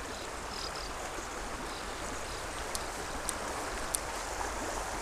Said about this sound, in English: Nice to hear the sound of the rushing water